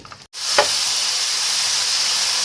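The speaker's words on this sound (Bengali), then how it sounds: "এখন এটাকে আমি নেড়ে চেড়ে 2 মিনিট ধরে একটু মশলাটাকে ভালো করে কষিয়ে নেব।" Spice masala with cumin and coriander is stir-fried for liver bhuna, a short knock and then a steady loud sizzle with a hiss that stays even to the end.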